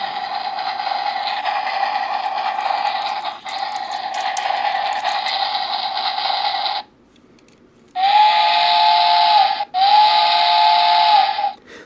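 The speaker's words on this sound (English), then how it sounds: "it's just one blast of the horn" Power Rangers Solar Streak Megazord toy train sounding an electronic steam-whistle style horn: a long hissing blast, a short pause, then two shorter shrill blasts, loud and close with no voices.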